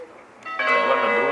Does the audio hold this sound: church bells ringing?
yes